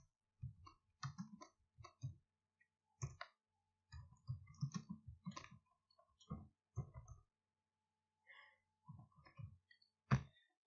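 Keys tapped on a computer keyboard while entering a search online, irregular bursts of close clicks with short pauses between.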